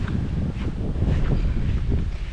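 Strong wind rumbling and buffeting the microphone, a dense, steady low roar throughout with no voices.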